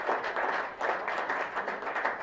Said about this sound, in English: I want us to clap